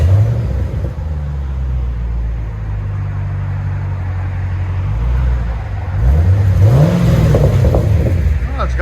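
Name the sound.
2015 Chevy Camaro SS 6.2L V8 engine revving, stock exhaust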